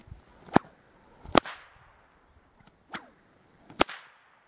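A prototype cattleman's stockwhip cracks four times, sharp and loud, in an uneven rhythm with short pauses between strokes and faint swishes of the lash before each crack, with no talking.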